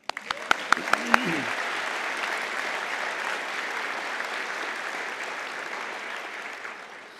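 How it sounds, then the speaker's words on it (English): Audience applause at a university winter conferring ceremony in Galway, a few sharp early claps swelling into a dense, sustained wash of clapping that holds steady and fades slightly near the end, with no voices over it. "And yes, you can clap"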